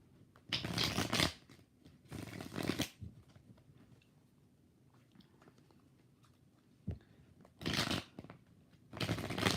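Tarot cards are shuffled in several brisk riffling bursts, close and crisp, separated by quiet pauses.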